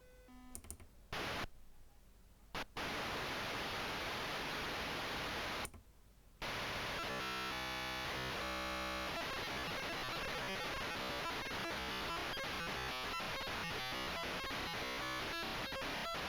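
Noise generator on a MiniMO clone module in an AE Modular synthesizer, loud broadband hiss with brief cutouts early on, then shifting into stuttering, glitchy ticks and clicking bursts over steady noise.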